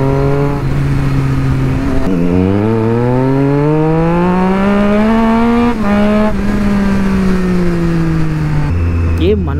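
A Triumph Street Triple 675 motorcycle being ridden, its engine droning loud and close, with the pitch rising steadily through the gears and dropping at each shift.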